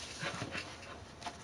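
Several dogs panting rapidly close by, quick breathy huffs in an uneven rhythm, with faint whimpers mixed in over a steady background hiss.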